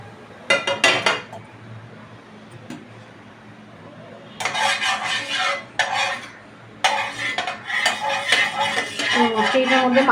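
Oil is swirled around a heated nonstick pan while sweet bread is being made: intermittent bursts of metallic scraping and clinking, near and fairly loud, with quiet gaps between them.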